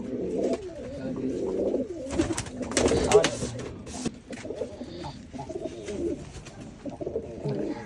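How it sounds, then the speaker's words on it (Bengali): Rampuri pigeons coo close by in low, throaty, repeated calls, with fluttering and rustling mixed in, while people talk over them. "কি কবুতর এটা রামপুরি জাতের সম্পর্কে আশা করা যায়"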